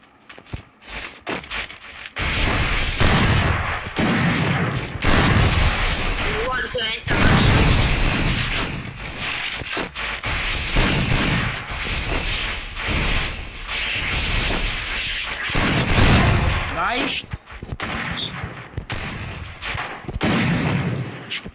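Rapid gunfire and explosive booms from a 3v3 shooter video game, loud bursts recurring throughout with whooshes and footsteps, while a player talks excitedly over the action.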